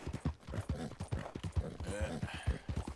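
Horse hooves clip-clop in a steady, close rhythm in the Red Dead Redemption 2 video game, a quick repeating trot heard alone.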